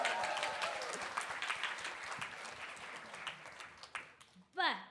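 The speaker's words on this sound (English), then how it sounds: "Let's give a round of applause for Chang and Yuto." Audience applause at a TEDx event in a hall, a sustained wash of many hands clapping that slowly thins out, with a voice speaking over it and a brief louder burst near the end.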